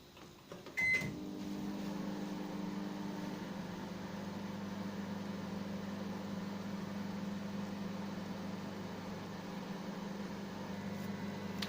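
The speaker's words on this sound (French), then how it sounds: "Placez maintenant votre mélange dans votre micro-ondes pendant 3 à 4 minutes tout en vérifiant régulièrement." A microwave oven runs steadily, heating a chocolate cake mixture for an M&M's cake, with a short click near the start and then a continuous low hum and whir that carries on, close and even, with no talking.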